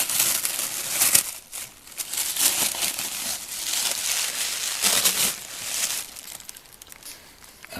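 Thin paper wrapping crinkles and rustles as it is pulled off a Roundhouse Argyll model steam locomotive, with continuous close crumpling and several louder bursts of tearing paper, and no voices.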